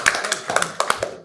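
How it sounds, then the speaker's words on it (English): A brief round of applause in a council meeting with a public gallery: a short run of distinct, scattered claps from a small group, close and fairly loud, ending within about a second. "It's a well-deserved round of applause."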